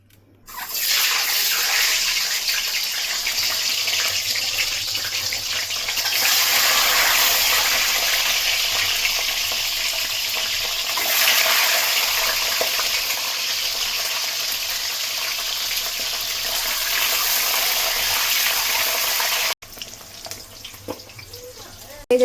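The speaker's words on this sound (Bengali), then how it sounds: "তেল গরম হয়ে গেছে, এখানে আমি লবণ দিয়ে ডিমটা আর আলুটা ভালো করে মাখিয়ে" Salted egg and potato frying in hot oil in a home kitchen, a steady loud sizzling hiss that swells and holds for nearly twenty seconds, then drops away to quieter clatter.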